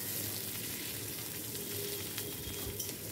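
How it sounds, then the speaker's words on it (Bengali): Onions fry in hot refined oil with a dense, continuous sizzle that holds steady and close throughout, without any voices. "এবার আমি পেঁয়াজগুলো ভেজে নেব"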